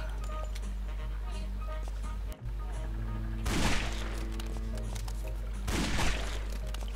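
Gunfire from a favourite in-game gun in the shooter Guns, Gore & Cannoli comes in two loud bursts over a steady game soundtrack, with no talk.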